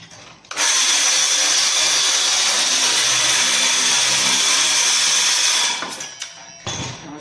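A power router cuts into a wooden stair stringer, starting abruptly into a loud, steady high-pitched whine for about five seconds, then spinning down, with a brief burst near the end.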